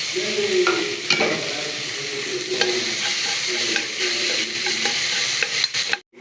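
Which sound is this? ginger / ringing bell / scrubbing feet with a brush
ginger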